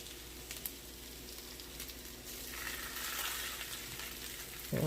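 A smash burger patty sizzles on a pile of Vidalia onions on a hot griddle, a steady close crackle that swells slightly midway before a brief clatter at the end.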